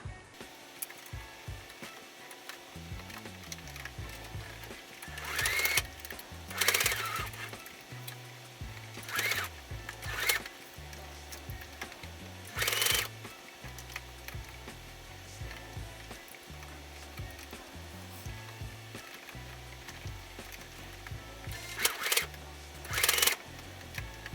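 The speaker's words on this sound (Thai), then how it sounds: "เย็บให้ชิดกับขอบด้านล่างแบบนี้เลยนะคะ เย็บจนรอบชิ้นงานเลยค่ะ" A sewing machine stitches a fabric phone case close to its bottom edge and around the piece, running in repeated short whirring bursts with pauses between them, close and clear, with no talking.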